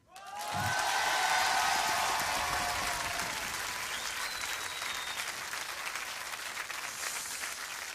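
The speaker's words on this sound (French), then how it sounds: "Ouais, vous pouvez l'applaudir." A large audience bursts into loud, sustained applause that stays dense and steady, with faint crowd murmur underneath.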